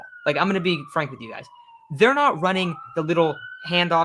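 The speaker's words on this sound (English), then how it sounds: "Sorry about the sirens." A police car siren passes outside, its steady wailing tone drifting slowly downward in pitch as it goes by. It runs continuously underneath someone talking about football.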